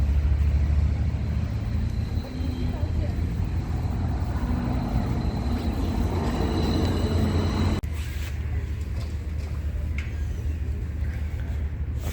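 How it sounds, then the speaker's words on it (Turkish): Steady rumbling street noise at a tram stop in Istanbul, with vehicles, a low mechanical drone and a passing tram rumble that changes abruptly partway through; no clear speech. "Şu an burası tramvay durağı."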